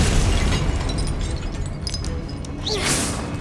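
Confringo explosive spell blasts in the Hogwarts Legacy video game, a burst of booming, crackling impact noise with a whooshing flare near the end, no talk.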